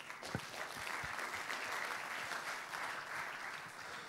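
Audience applause after a talk at a presentation event, steady clapping from a seated crowd that carries on through the whole stretch with a few louder individual claps up front.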